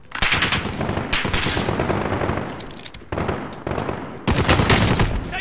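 Dense, loud automatic gunfire rattles almost continuously in Call of Duty: Modern Warfare, with rapid bursts and short breaks between volleys.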